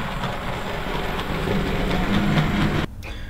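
A Hornby R3862 Lord Nelson class OO gauge model locomotive's motor hums steadily on DC as it runs along the track with a faint clicking rhythm, then drops off abruptly near the end.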